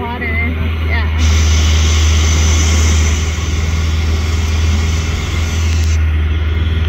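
A propeller airplane engine drones loudly over the water near small boats on the Pacific Ocean, a steady low roar with broadband rushing that holds throughout and swells slightly in the middle.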